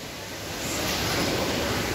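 Water rushes at Hulugan Falls in a dense, loud, continuous roar that builds slightly and holds steady throughout.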